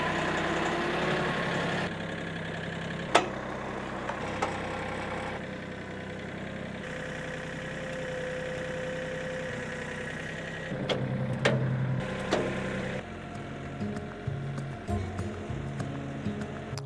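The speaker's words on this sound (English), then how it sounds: "All right, we got the tractor ready to roll." A tractor engine idles with a steady low rumble, broken by occasional clanks and knocks, close by and fairly loud, on a homestead.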